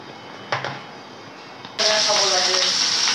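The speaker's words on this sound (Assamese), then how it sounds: "ফিছখিনি ফ্ৰাই কৰি ল'ম।" Fish pieces dropped into a hot pan, a short clatter followed by a sudden loud burst of sizzling frying that continues steadily to the end.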